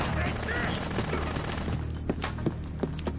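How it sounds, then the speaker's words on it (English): Gunfire in the video game Dead Rising: a run of sharp shots, spaced irregularly and growing more distinct toward the end, over a busy game background. "Why is he shooting at me?"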